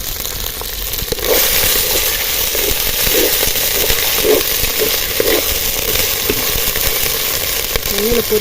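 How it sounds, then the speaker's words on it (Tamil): Dried anchovies fry in hot oil, a dense, continuous sizzling hiss with scattered crackles and pops that grows fuller after the first second, with faint background sounds. "எண்ணெயில் பொரிக்கிற மாதிரி பொரிச்சு எடுத்துக்கலாம்."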